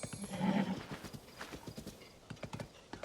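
Horse hooves clip-clop in Zelda: Tears of the Kingdom, a brisk, regular run of hoofbeats, with a short whinny-like swell near the start, all alone without speech.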